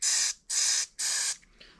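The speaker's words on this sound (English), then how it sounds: "I'm still going to spray some carb cleaner through it" Carb cleaner is sprayed through the emulsion tube of a Honda GX120 carburetor from an air compressor in three close, sharp hissing bursts, each lasting about a third of a second, with a fainter short puff at the end.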